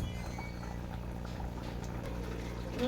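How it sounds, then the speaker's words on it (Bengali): Mustard and poppy seed gravy with pabda fish simmering in a pan, a low steady bubbling hiss that runs alone and quietly the whole time, swelling slightly near the end. "আর একটু ঝোল ফুটবে ঝোল ফুটলেই আমার রেডি হয়ে যাবে"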